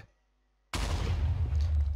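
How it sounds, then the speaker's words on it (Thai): A Minecraft explosion bursts in abruptly after a moment of silence, a loud, rumbling blast that keeps roaring until the end. "เราลองระเบิดครับ ระเบิดดิเฮ้ย"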